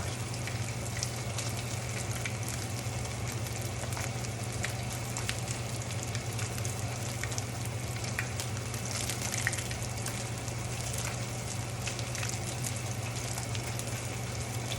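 Lemon panko crusted salmon frying in a pan on the stovetop gives a steady, even sizzle with faint crackles over a low background hum, continuous and fairly quiet.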